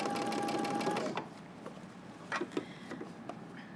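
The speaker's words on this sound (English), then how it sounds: "head to your sewing machine, and you're going to stitch around using the hem allowance allowed" Sewing machine running fast, stitching around the hem allowance of a jacket, a steady whir for about a second, then quieter with scattered clicks and taps.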